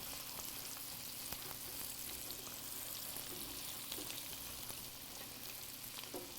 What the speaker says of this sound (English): Stir up our bacon and our onions.